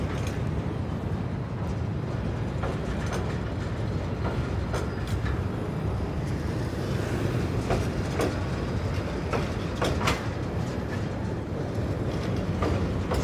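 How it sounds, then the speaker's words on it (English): A train rolls slowly and steadily over an old bridge in Hanoi, Vietnam, with a low rumble and intermittent metallic clicks and clanks from the wheels. "At least the train is running slow,"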